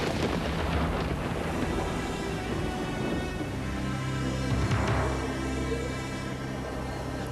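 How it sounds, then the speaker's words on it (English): Thunder rumbles through a roaring winter storm in an animated show, with low booming rolls and a couple of sharper cracks over steady rushing wind and rain noise. "a winter storm was roaring in from the cold north"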